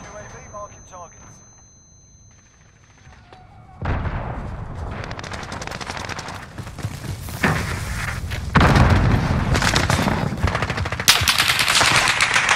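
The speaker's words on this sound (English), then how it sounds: "Allied cruise missile away." Video-game combat erupts with rapid machine-gun bursts, heavy booming cruise missile explosions and layered gunfire, loud and dense after a quieter opening, with radio-style voices talking over the barrage.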